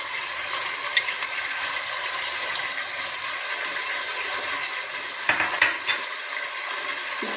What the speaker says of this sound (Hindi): प्याज को थोड़ी देर हम भून लेंगे।